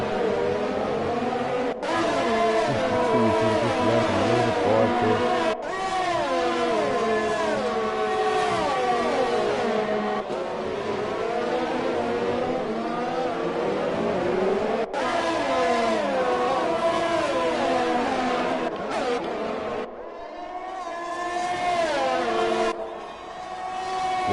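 Race cars in a sim racing game on the Baku circuit in Azerbaijan, engines continuously revving and whining through gear changes, several cars close together and loud throughout, with no talk.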